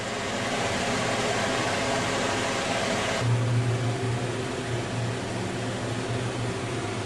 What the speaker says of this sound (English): And there's the fan startup. The heat activated switch has turned it on.